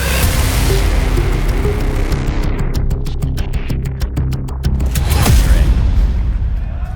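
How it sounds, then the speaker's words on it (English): A grenade detonates in Counter-Strike during a BLAST.tv Austin Major 2025 match, a heavy boom rising out of dense, loud game noise and gunfire. "Zywoo's gonna eat that grenade for 40 damage."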